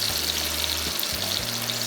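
Raw tomato paste sizzles in a hot pan for a kofta curry gravy, a soft, continuous frying hiss with faint low kitchen hum, no voices.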